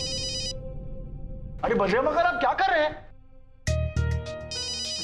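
A phone ringtone repeats in short electronic bursts at the start and end of the scene, with a man's loud speech and other sharp noises in between.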